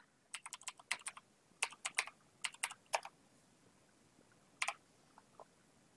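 Computer keyboard keys clatter in quick bursts of clicks, a burst of rapid typing followed by a few isolated taps, faint and close with no talking.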